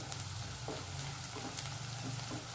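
Onions and whole spices sautéing in a pan for a spicy veg Kolhapuri curry, a steady close sizzle and crackle that holds without pause, with no voices.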